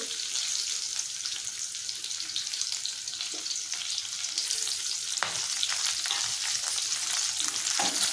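Curry leaves sizzling in hot oil with ivy gourd and chickpeas in a pan, a continuous close crackle and hiss with occasional stirring scrapes and sharper pops, no voices.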